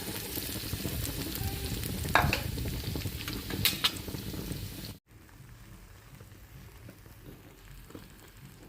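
Raw tomato chutney paste sautéing in a pan gives a steady close sizzle and frying crackle with a few utensil scrapes. It cuts off abruptly and is followed by a quieter, fainter sizzle.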